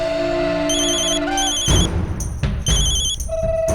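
A telephone rings in repeated electronic trills, fairly loud, with a few thumps and bumps in between and no talking.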